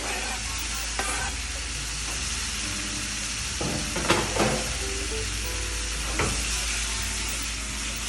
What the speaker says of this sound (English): Now, saute them a little bit on medium to high heat.